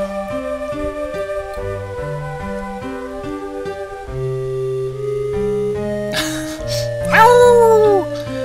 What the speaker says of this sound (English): Yeah, I hear a howl.